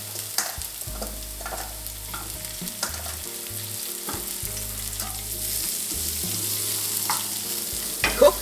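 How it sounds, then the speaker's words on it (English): Chopped garlic and 250 grams of asparagus sauté in hot oil with a soft, steady sizzle, broken by occasional stirring clinks and scrapes, close and fairly quiet, with a couple of sharper knocks near the end. "Saute till garlic looks yellow. Add 250 grams asparagus."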